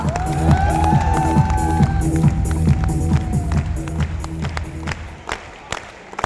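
A large stadium crowd at a packed event cheers and claps loudly, with sustained tonal voices and music-like tones over the clapping. The noise swells early, then thins and fades over about six seconds.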